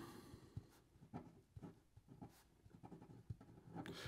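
A Diplomat Nexus fountain pen with an extra fine stainless steel nib scratches across paper in short, faint strokes, each a quiet irregular scrape, with brief pauses between them.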